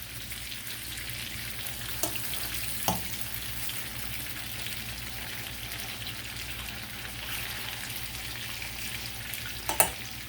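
Honey garlic chicken breasts fry in a pan just after being flipped, a continuous close hiss and crackle of hot fat holding steady throughout, with a few faint clinks of a utensil against the pan and no talk.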